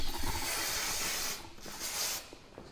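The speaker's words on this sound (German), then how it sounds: "Bremsereiniger. Achtung." Brake cleaner sprayed from an aerosol can while working on a BMW 123d with an N47 diesel engine, a loud continuous hiss that breaks off and resumes in two shorter bursts, with no talking.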